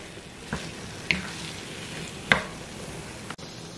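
One pound of ground beef fries in a pan over medium heat, giving a soft continuous sizzle broken by a few sharp scrapes and knocks as it is stirred, with no voices.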